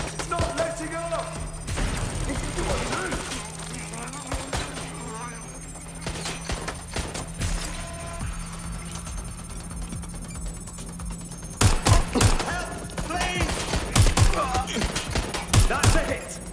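Sporadic gunshots and bursts of fire in the Watch Dogs Legion video game, sharp cracks scattered through the scene and clustering near the end, mixed with game effects and talking voices.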